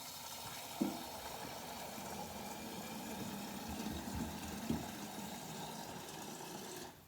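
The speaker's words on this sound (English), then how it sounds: "I'm going to fill the kettle up again for tomorrow" Water running steadily into a kettle under a sink tap, a continuous close hiss and splash with a couple of brief clunks, with no talking.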